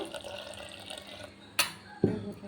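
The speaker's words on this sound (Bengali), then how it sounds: "ব্রেন্ড করে আমি সামান্য জল দিয়ে দেব এতে" A little water is poured into grated coconut in a mixer jar, a soft close splashing trickle that ends with a couple of brief knocks.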